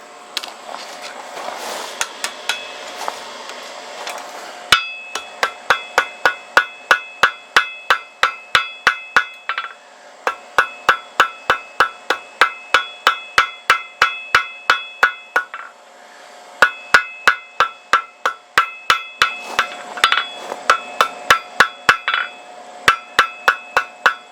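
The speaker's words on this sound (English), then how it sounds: "Pushing with the hammer a little bit as I go, drawing out the metal" Steady rhythmic hammer blows ringing on hot metal at an anvil horn, drawing out the metal, bright metallic clinks in long runs with short pauses between bursts, close and loud.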